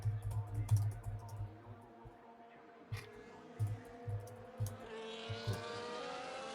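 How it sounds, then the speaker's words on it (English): Fingers type on a computer keyboard in quick bursts of close, crisp clicks with brief pauses, over a faint steady hum, while a racing car engine rises softly in the background near the end. "Just typing away."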